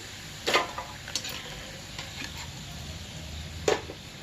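Corn flour frying in a pan over low heat as it is stirred, a soft steady sizzle with two sharp scraping clatters of the utensil against the pan, quiet and close, no voices.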